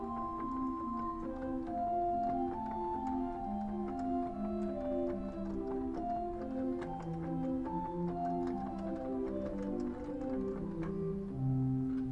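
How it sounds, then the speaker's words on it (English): Pipe organ playing on its chimney flute stop in a Lutheran church in Baltimore, a steady melodic line of soft sustained flute tones moving in a continuous flowing phrase with no talking. "So we've got a chimney flute as a flute stop."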